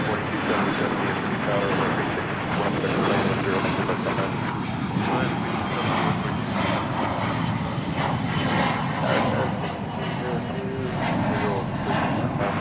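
American Airlines jet taking off from runway 36 at Dallas/Fort Worth airport, a loud, steady broadband engine roar sustained throughout with a faint radio voice now and then.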